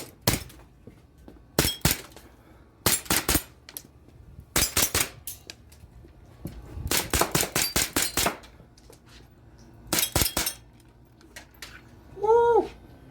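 A Crosman P1 full-auto air pistol fires in repeated short rapid bursts, each a tight cluster of sharp snapping shots separated by brief pauses, fairly close and loud, with a brief whoop near the end.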